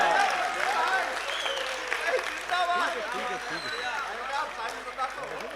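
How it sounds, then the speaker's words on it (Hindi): Audience clapping at a national Hindi poetry recital held for Kargil Vijay Diwas, moderately faint applause spread through the hall while a voice speaks and calls out over it, the clapping loosening toward the end. "तालियां बजाओ तो देखो ढंग से बजाओ।"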